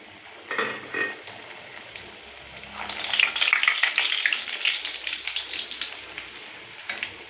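Chola poori frying in hot oil in a home kitchen: a steady, rain-like crackling sizzle that swells loud after a few quieter pops and keeps bubbling evenly, with no talk.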